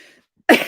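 One short, sharp cough bursts out close and loud after a brief pause.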